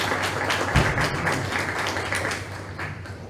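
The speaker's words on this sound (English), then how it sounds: "Please join me in thanking them with a round of applause" An audience at a National Honor Society induction ceremony applauds, a steady wash of many hands clapping at moderate distance that holds throughout with no voices over it.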